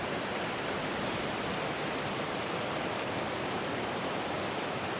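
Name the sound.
woodland river cascade waterfall flowing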